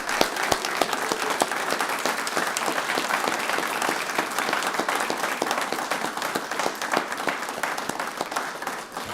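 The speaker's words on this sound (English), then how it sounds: "let's give one more round of applause for class 2405" Sustained, even applause from a large audience at a Brevard County Fire Rescue graduation ceremony for class 2405, many hands clapping steadily without a break.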